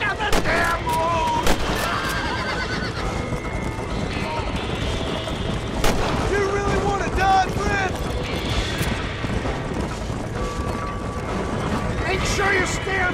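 Gunfire rings out in Red Dead Redemption during a wagon chase, with sharp shots scattered throughout over constant clattering hooves, rolling wheels and mechanical rattling, while voices shout and talk across the whole stretch.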